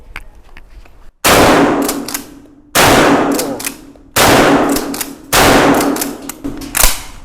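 A Mertmak pump-action shotgun with a compact 12-inch barrel fires four loud, sharp blasts about one and a half seconds apart outdoors, each followed by a ringing decay and the clack of the pump action.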